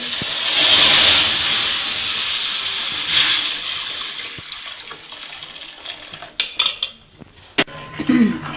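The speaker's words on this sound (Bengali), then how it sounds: "এবার আমি এটা রান্না করে নেব কড়াইতে দিয়ে দেব দুধ" Milk is poured into a karahi to cook chushi payesh. A rushing pour fills the first few seconds, then fades into quieter bubbling with a few sharp utensil clinks near the end.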